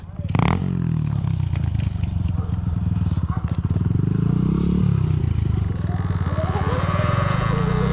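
A Surron Ultra Bee electric dirt bike rides past with a steady whirring motor whine that rises and falls as the throttle changes, loud and close, with gritty scraping and clatter from the dirt trail beneath.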